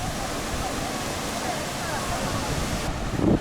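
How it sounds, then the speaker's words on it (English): Ocean waves splashing against the coast on Nusa Lembongan, Bali, a steady loud wash of surf with wind across the microphone and no break. "The splashing of the waves is beautiful."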